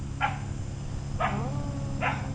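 A dog barks three times at a steady interval, one bark trailing into a whiny yelp, over a constant low hum.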